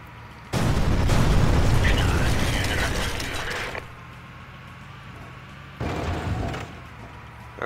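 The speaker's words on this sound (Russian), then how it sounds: "В нас уже кто-то шмальнул." A gunshot bursts at the player's vehicle in the video game Ex Machina, a loud blast that rolls into a long mechanical rumble, with a second shorter burst a few seconds later.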